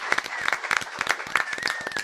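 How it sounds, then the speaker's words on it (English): Audience applause welcoming a guest, Sajith Pai, to the stage at a café talk event: a short burst of scattered, fairly sparse claps close to the microphone, with a few sharper individual hand strikes. "a big round of applause for Sajith"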